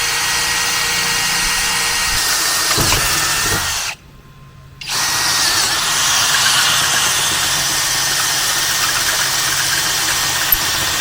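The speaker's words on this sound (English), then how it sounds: "Just make sure you drill all the holes in the right places." A power drill bores holes for a Hooke Road roof rack on a Toyota Tundra, whining steadily and close, with a brief pause around the midpoint before drilling resumes; no talking.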